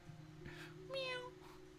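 A voice imitates a cat, giving a short, throaty meow-like call with a rough, strained edge, heard close up over a steady low hum.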